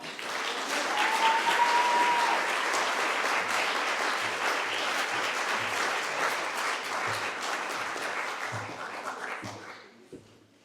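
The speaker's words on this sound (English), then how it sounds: "Everybody give a round of applause for Carla." Audience applause for a poet at a small spoken-word event, steady clapping lasting about nine seconds before fading out to near silence.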